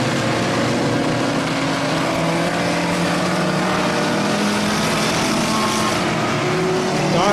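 Bomber-class race cars roar around a dirt oval during an A-main, a loud continuous engine drone from several cars that swells slightly near the end.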